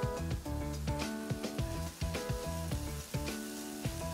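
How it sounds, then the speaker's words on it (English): Onions, de-seeded chopped tomatoes, ginger chili paste and green peas sizzle and fry in a pan, a steady close crackle with rhythmic scraping accents as the mixture is stirred, music playing underneath. "I'm going to cook this till the tomatoes are soft."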